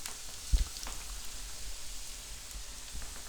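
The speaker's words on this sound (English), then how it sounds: "once that juice hits the hot oil, it's when it starts popping and you're going to get burnt" Egg rolls crisp in hot canola oil with a steady, soft sizzle and a couple of sharp pops near the start, close and fairly quiet with no voices.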